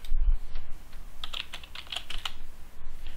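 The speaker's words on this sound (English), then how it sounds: "under the available tab, you will type Maven in the search" Close, quick burst of computer keyboard keystrokes as the word Maven is typed into a Jenkins plugin search box, clicking alone over a faint room hum.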